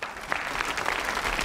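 Studio audience applauding on a TV quiz show, a dense burst of clapping that stays steady and fairly loud for its short length.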